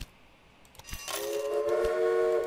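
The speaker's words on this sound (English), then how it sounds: "Freight train." A freight train in the railway-building video game Railway Empire rolls by with a swelling rumble and a sustained whistle-like tone, growing louder over a couple of seconds with a faint metallic clink.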